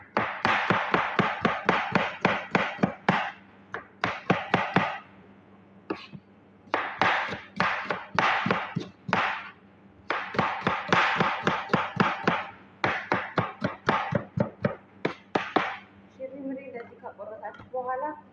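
Chicken being chopped on a board, a rapid series of sharp close thwacks in bursts with short pauses between them, no one talking.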